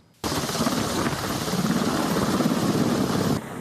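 A rescue helicopter's steady, loud rotor and engine roar fills the clip, starting abruptly and holding constant throughout, during a mountain rescue on Taiwan's Southern Section 2 trail near Yushan North Peak.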